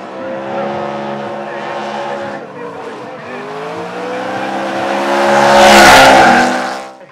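At a drift competition, an E92 BMW and a Nissan 370Z slide past with engines droning and tires squealing, the noise swelling to a loud peak as the cars come closest, under a commentator's voice.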